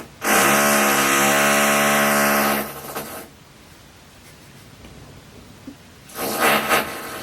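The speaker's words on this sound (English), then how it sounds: "we're back from the that big drill noise that kind of scared the SHIT out of me" A loud, close power drill from renovation work upstairs whines steadily for about three seconds, falls quiet, then starts again briefly near the end.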